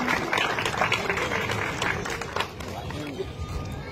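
Audience at a provincial collectivities festival queen and princess pageant applauding, a dense continuous wash of clapping and crowd noise that thins slightly toward the end.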